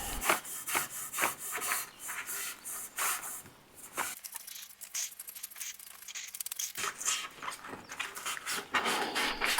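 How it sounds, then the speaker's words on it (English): Hand sanding on an old wooden tea trolley being restored: close, raspy strokes in an uneven rhythm, pausing briefly midway before resuming with steady rubbing against the wood. "the acetone wasn't quite enough and I had to do a little bit of sanding"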